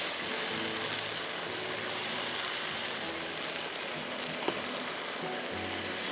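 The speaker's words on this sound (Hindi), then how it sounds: "क्वार्टर कप ऑयल डाल के इसको कुक कर रही हूँ।" Garlic, tomato paste, paprika, oregano, ginger powder, salt and pepper fry in a quarter cup of oil with a steady, bright sizzle. It continues throughout, with one small click near the end.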